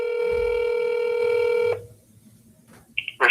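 Telephone tones play while a call to a state hospital is transferred, a steady electronic signal holding for under two seconds and then cutting off, followed by near silence and a short burst at the end.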